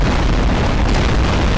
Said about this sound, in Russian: Целую серию не было взрывов, но в конце один очень мощный